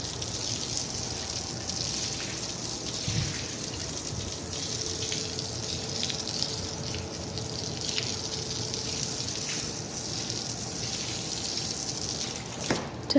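Water runs and splashes steadily across a yard during cleaning, a continuous gushing trickle at moderate distance with a few faint knocks near the end.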